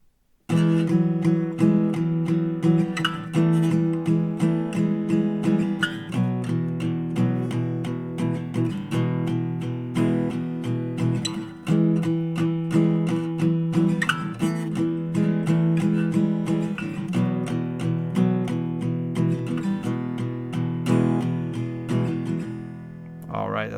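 Acoustic guitar strumming the verse chord progression of a song for two rounds, a steady rhythmic pattern played close and full with no voice over it.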